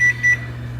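Oven timer on a kitchen range sounding two short, sharp electronic beeps in quick succession as it is set, over a steady low appliance hum.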